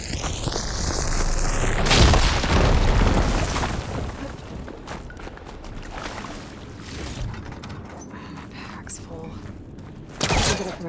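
An explosion blasting apart a tunnel blockage in Horizon Forbidden West, a deep, rumbling boom that swells near the start and then rolls off into debris and scattered crackles, with a character's voice talking afterward.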